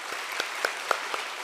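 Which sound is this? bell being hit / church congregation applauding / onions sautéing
church congregation applauding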